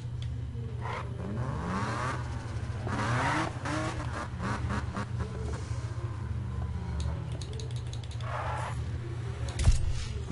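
A car drifts in the Need For Speed racing game, its engine revving and wavering through repeated throttle surges with tire squeal, steady and prominent with no talk over it.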